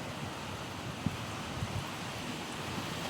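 Strong wind with heavy rain in a storm: a steady, broad rushing roar of wind and rainfall throughout, with a few faint low thumps or gusts buffeting the microphone.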